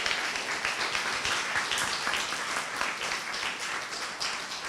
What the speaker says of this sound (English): let's give a round of applause for our panelists today